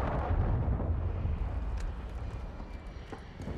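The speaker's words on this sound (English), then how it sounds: "Cruise missile inbound." A cruise missile explodes in Call of Duty Modern Warfare 2 multiplayer, a loud rumbling blast that rolls and slowly fades over a few seconds.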